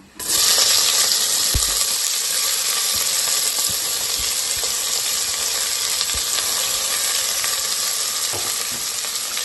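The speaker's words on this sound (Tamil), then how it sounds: "நல்லா வந்து வெங்காயத்தை வதக்கிக்கோங்க" Steady, loud sizzling of onions sautéing in hot oil for prawn biryani, continuous hiss with occasional faint stirring clicks.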